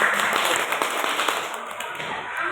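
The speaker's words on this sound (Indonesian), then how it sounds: "tepuk tangan untuk kelompok Banteng." A classroom group of students claps in steady, dense applause that carries through the whole clip at close range.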